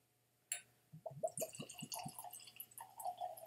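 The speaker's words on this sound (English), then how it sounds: "I have here a clean Glencairn glass. And I'm going to pour some of this into there." Whistler 7 Year Old Irish Whiskey is poured from a sample bottle into a clean Glencairn glass: a sharp clink, then a run of close, quick glugs and trickles, fairly quiet.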